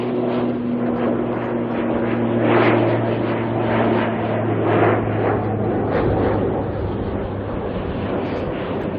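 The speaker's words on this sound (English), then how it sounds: "And then we've got the ATR that apparently looks like a moth, according to Lee." An ATR turboprop airliner's propellers drone steadily with a strong low hum and a pulsing roar that rises and falls gently, heard without talk.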